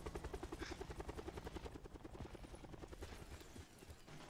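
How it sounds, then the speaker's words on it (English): A helicopter in the video game Call of Duty: Black Ops 4 Blackout beats out a fast, steady rotor chop, close and prominent, with some irregular clatter mixed in. "And chopper going down."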